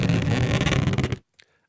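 A rubbed balloon squeal, time-stretched in speed mode with Logic Flex Pitch for a monster roar, becomes a dense, loud, grinding rumble lasting just over a second before cutting off to near silence with a faint blip.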